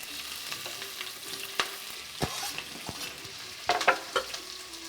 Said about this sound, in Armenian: մեզ հարկավոր է շատ բարձր ջերմաստիճան լոբին տապակելու համար